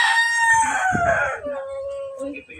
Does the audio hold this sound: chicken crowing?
yes